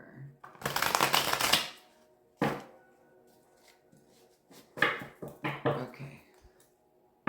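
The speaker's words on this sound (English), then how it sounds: "Let me shuffle a little bit more." Tarot cards are shuffled by hand in a loud, close riffling burst, then several shorter shuffles and card slaps follow with pauses in between, with no talking over them.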